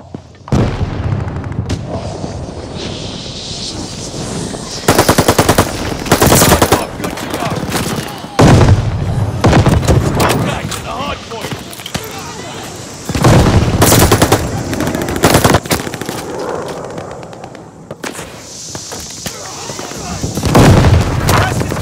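Loud gunfire fills a Call of Duty: Vanguard multiplayer Hardpoint match, with rapid automatic bursts, heavy booms and explosions rising and falling in waves, and game announcer voices cutting in between.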